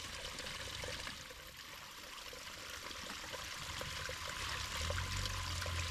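Water trickles and streams steadily beside a hiking trail in Aurora, a faint, continuous wash of flowing water with a low rumble building toward the end and no one talking.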